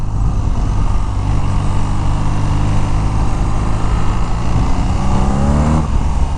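A 2023 BMW R nineT Pure motorcycle engine drones loudly and close while riding, its revs climbing steadily in pitch toward the end under a heavy wash of wind noise.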